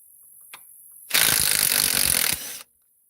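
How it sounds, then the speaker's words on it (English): A ratchet wrench loosens a bolt on a 4-wheeler axle: one loud, rapid burst of clicking lasting about a second and a half, close by, after a faint tap in an otherwise quiet space. "Okay, we're going to loosen this up."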